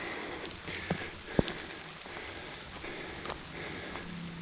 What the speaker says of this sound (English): if it carries on the way it's raining now